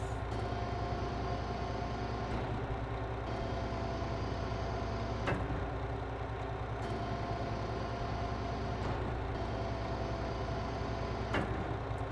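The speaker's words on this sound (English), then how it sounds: "Now let's see the sound of the rams." Hydraulic rams on a 20 ft gooseneck trailer in Farming Simulator 22 give a steady mechanical whir and hum, with a few short clicks and shifts as they start and stop, all fairly quiet and with no talking.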